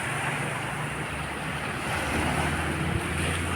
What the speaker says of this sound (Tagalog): Nasampa sa fishport ng alon